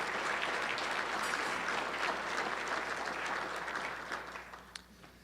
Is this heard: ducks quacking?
no